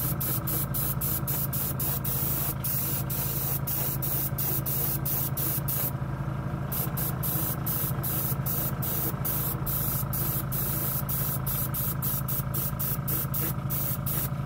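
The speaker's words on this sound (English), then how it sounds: "Spray is lovely." A Badger airbrush sprays Stynylrez primer with a steady, continuous hiss, close and even throughout, broken by rapid regular ticks and one brief pause midway.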